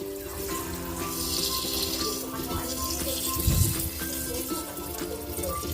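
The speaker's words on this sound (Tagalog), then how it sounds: "Lagyan natin ng water." Water pours into a cooking pot holding pork ribs and tomatoes for sinigang, a steady splashing trickle with a brief louder gush midway, over a background of kitchen hum and faint tonal clatter.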